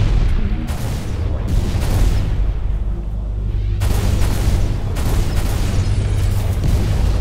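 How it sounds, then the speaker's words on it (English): A dead body blown apart after repeated gunfire in the video game Halo Reach, a steady roar of low booming blasts and gunfire bursts, loud and continuous, with sharp bursts near the start and in the second half. "I shot the dead body so many times, it exploded"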